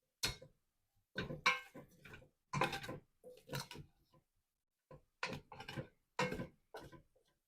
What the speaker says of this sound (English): We're going to stir this in really good.